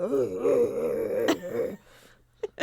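A human voice imitates a koala's call, a wavering throaty groan held for well over a second, then trails off into a few short breathy bursts after a brief pause.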